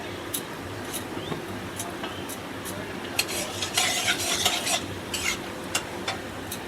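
Cardamom, cinnamon and cloves fry in hot oil with a steady sizzle. A spoon clinks and scrapes against the pan in bursts. There is no talking.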